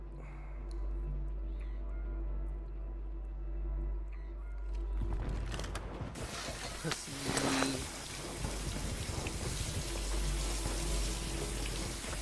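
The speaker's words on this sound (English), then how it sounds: "You taking a shower?" Broadband water-like hiss, probably a running shower, rises from about five seconds in. It is loud and steady, with brief sharper bursts, after a quieter start where a low steady hum is heard.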